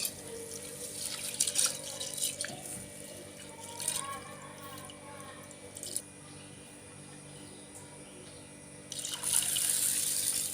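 Soaked lentils get rinsed in a bowl of water, with tap water running and splashing in bursts, swishing and pouring sounds, close and steady with no talking.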